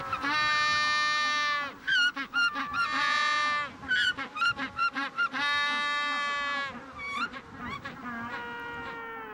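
An Andean bird calls loudly from its burrow to claim it and a mate, giving long, harmonically rich honking notes broken by rapid stuttering bursts, close and prominent over faint ambient noise.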